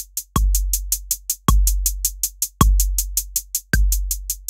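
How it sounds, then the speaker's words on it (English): Metronome clicks in Ableton Live over a deep kick-drum beat, with a steady run of sharp ticks, a heavy low thump roughly every bar, and an accented click on each downbeat, all clear and close. "If I turn the metronome on now"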